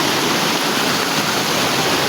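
The Bono Manso waterfalls in Ghana roar in a dense, steady broadband rush of falling water, loud and close, with no other sounds standing out.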